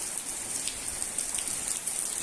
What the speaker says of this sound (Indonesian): di sini masih hujan